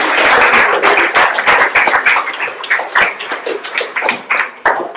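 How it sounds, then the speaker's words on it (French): A small group of people clap their hands in a close, loud, irregular patter that thins and tapers off toward the end, with distinct individual claps audible. "Merci à tous. Je vous applaudis."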